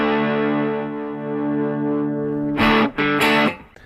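An electric guitar plays through a Line 6 Pod Go 2.0 effects unit. A distorted, sustained chord rings out and fades, then two hard, choppy distorted strums cut in near the end.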